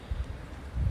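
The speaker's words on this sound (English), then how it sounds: "Jeez, it's windy today, so sorry about the wind." Low, buffeting wind rumble batters the microphone in uneven gusts, swelling louder toward the end, with no voices.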